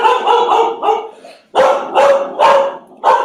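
A dog barks repeatedly at close range, loud bursts in two quick groups with short pauses between, with no other sound around it.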